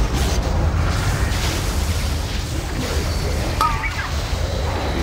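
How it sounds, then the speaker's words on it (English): An explosion in a World of Warcraft heroic raid boss fight against the Stone Guard rumbles as a loud, sustained low boom. Game effects chirp faintly over it. "Right, another explosion."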